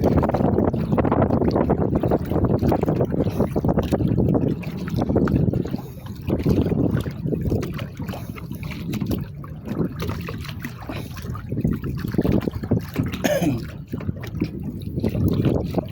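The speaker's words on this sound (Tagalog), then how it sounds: "Hangin lang ang kalaban," Strong gusts buffet the microphone in a constant low roar, with water lapping and sloshing around a small fishing boat underneath.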